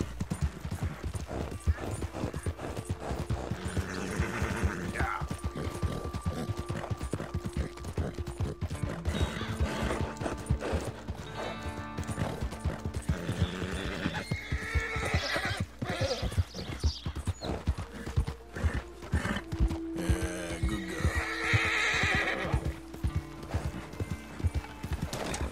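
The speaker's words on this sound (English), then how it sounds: "For a nice little horse ride." Horse hooves in the Red Dead Redemption 2 video game: a steady rhythmic clip-clop of a ridden horse runs throughout, with occasional whinnies and snorts, under a layered game soundscape with faint talk.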